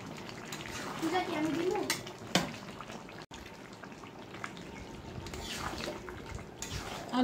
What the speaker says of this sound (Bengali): আলুটাকে দিয়ে ভালো মতো একটু নেড়ে চেড়ে নিচ্ছি।